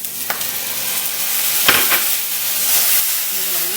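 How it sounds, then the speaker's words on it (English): Fresh chopped parsley and lemon juice stirred into a sizzling pan, a steady close frying hiss broken by a couple of scraping stirs, with no talking. "mix in the herbs and the lemon juice"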